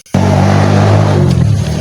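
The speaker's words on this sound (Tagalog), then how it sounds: "Grabe yung motor, bay." A motorcycle engine suddenly roars in loud and close after a brief quiet start, holding a strong steady growl that eases slightly near the end.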